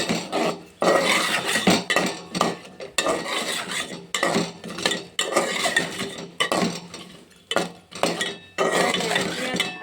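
Ingredients being stirred in oil in a pan, with repeated metallic scraping and clinking strokes in bursts separated by short pauses, close, under a faint sizzle.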